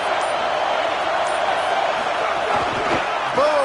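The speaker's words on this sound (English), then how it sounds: "Decibels rising as the crowd gets behind this defense on third down." A stadium crowd in the College Football 27 video game roars on a defensive third down, a loud, continuous wash of fan noise that swells steadily with faint tonal accents near the end.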